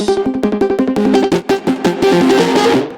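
An electronic music drop plays loud, with a short automated delay and lightly distorted synth, rhythmic stabs repeating rapidly before a sustained, fuller section swells and fades at the end.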